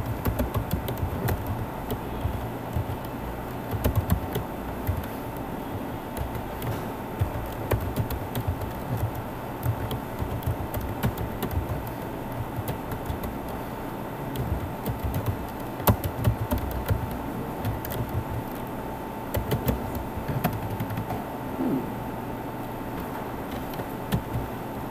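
Keys clatter on a computer keyboard while PHP code is typed, with irregular bursts of close taps over a low steady hum and no talking.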